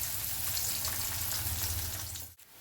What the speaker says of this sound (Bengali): প্রথমে আমি পেঁয়াজ দেব ফোড়নে।